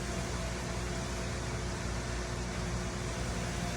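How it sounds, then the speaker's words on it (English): A parts washer runs steadily in a shop, a continuous mechanical hum and whir with a low droning undertone, even and unbroken throughout, heard alone without talk. "That's the parts washer you hear running over there."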